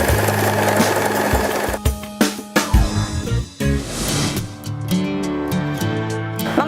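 A Janome 3016 sewing machine runs a backstitch to lock off a seam, with a dense mechanical whir that stops, restarts in short choppy bursts, then settles into a steady run, close and fairly loud.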